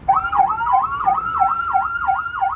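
Two electronic vehicle sirens wail together in a rapid, repeating up-down pattern, close and steady, with faint background noise underneath.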